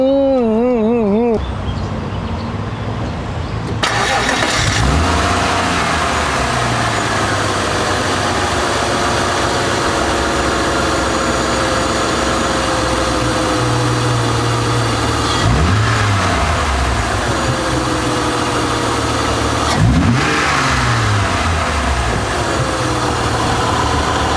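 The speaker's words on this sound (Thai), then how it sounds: "มาฟังเสียงเครื่องยนต์กัน" A second-generation Honda Legend with a 3.2-litre C32A V6 idles steadily near the microphone, its smooth hum lifted by several quick revs that rise and fall back to idle.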